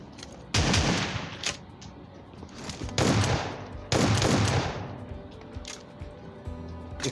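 Shotgun blasts in the PUBG Mobile video game: three or four loud, booming shots spaced a second or so apart, each with a sharp attack and echoing tail over faint game ambience.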